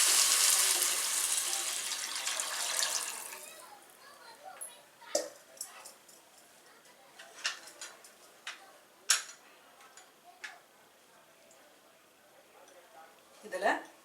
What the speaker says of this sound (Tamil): இந்த தண்ணி ஊற்றிடலாம்.